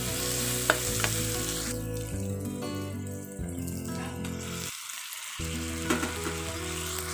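Onions fry with a little salt in a pan, a steady close sizzle with intermittent stirring scrapes and clinks of a spoon against the pan, continuing without speech.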